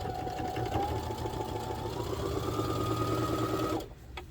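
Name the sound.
sewing machine stitching an apron pocket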